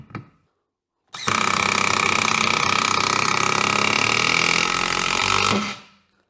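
A DeWalt DCF894 impact wrench on high mode with a freshly charged battery hammers loudly and continuously for about four and a half seconds after a brief click, then winds down.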